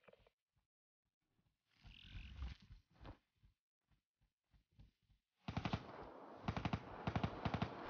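Gunfire in Call of Duty Black Ops 3 gameplay: scattered single shots and short bursts, then sustained rapid machine-gun fire in the last seconds, loud and alone without talk.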